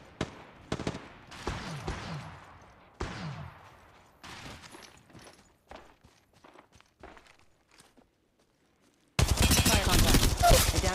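Sharp gunshots and impacts in Apex Legends Mobile, a run of separate reports with decaying echoes fading into sparse quieter hits, then an abrupt loud burst of noise at the end.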